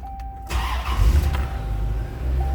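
A 1993 Chevrolet Corvette 40th Anniversary convertible with a tuned port injected 5.7-liter 350 V8 cranks briefly and fires, settling into a deep, steady rumbling idle close by.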